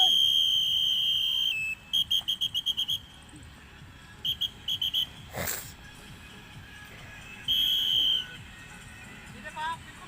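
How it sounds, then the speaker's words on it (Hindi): Short, shrill whistle blasts from an exercise instructor during commando-style physical training, a few sustained blows and a rapid burst of chirps, with talking in the background. "मेरी सीटी बजेगी तब तक कितनी स्पीड से करते हो"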